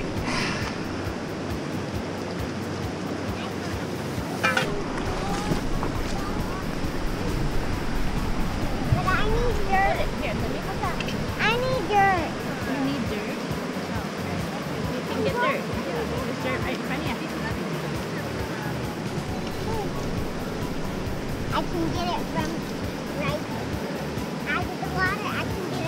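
Water rushing and splashing in a shallow creek below Silver Bow Basin near Juneau, Alaska, with scattered scraping and swishing of gold panning, while people talk nearby throughout.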